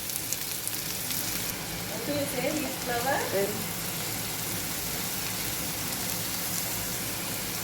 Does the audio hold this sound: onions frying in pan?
yes